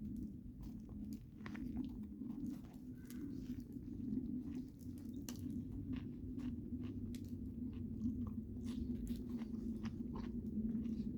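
Someone chews a soft-bread Jersey Mike's sandwich, with steady close-up munching and faint crunches running throughout, no talking.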